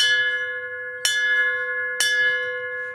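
A small celebration bell is struck three times at roughly one-second intervals, each strike bright and ringing with a sustained metallic tone that decays slowly between hits, close and alone.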